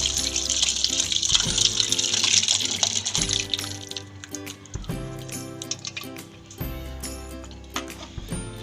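Boiled brinjal and drumstick vegetables with their water are poured into cooked sambar masala, a close splashing pour followed by lighter sloshing and clinks.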